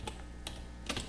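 Arrow keys on a computer keyboard are pressed three times while a 3D model is adjusted in SketchUp, giving sharp, quiet, separate clicks with short gaps between them.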